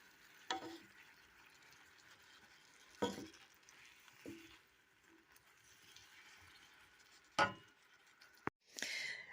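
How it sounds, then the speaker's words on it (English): Beans sautéing with spinach and arugula in a pan, a faint low sizzle broken by a few separate stirring scrapes and knocks, one sharp clatter near the end, with no talking. "Sauteing some beans into the spinach and arugula"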